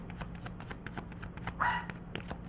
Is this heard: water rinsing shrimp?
no